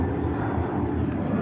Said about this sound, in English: there's a plane dive bombing my head